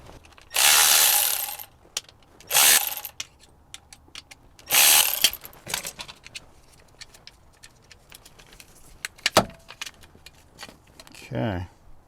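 Torx bolts being worked loose from a BMW E90 rear window regulator motor: several loud bursts of power-driver whirring separated by clicks and small metallic handling sounds, close by.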